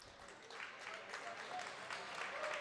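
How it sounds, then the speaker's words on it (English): A basketball crowd at a high school boys game claps in steady, moderate applause, heard from a distance in a gym with light crowd murmur. "The crowd appreciative of the hard play of the Patriots today, giving them a round of applause as they check out of the game."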